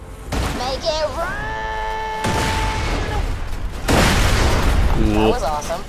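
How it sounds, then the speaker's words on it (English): Booming blasts and crackling bursts from explosives on safes in the video game Borderlands 2, mixed with loud talking and shouting voices, busy and energetic throughout. "Put the rest of Tina's explosives on those safes and watch the fireworks."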